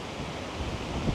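Large waves on Boracay beach roar as a steady, broad wash of surf, mixed with gusty wind buffeting the microphone, with no talking.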